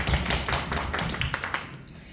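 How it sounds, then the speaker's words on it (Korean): A church congregation at a youth worship service applauds together, a dense, steady patter of many hands clapping that carries on for about two seconds before easing off. "박수 먼저 올려드리겠습니다"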